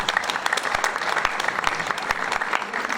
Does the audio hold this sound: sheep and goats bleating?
no